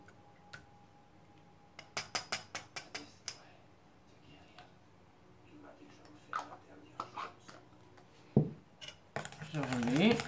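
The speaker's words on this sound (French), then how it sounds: "Je remue." Natural hair gel mixed with vegetable silicone is stirred in a small container, giving light ticking and clinking taps against the sides, with scraping swirls near the end and a quiet voice speaking at times.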